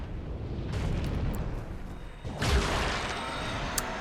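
Dark Bead spell blasts a dragon's tail in Dark Souls: two loud, rumbling explosive bursts, the second harder and more booming, over a steady low game background.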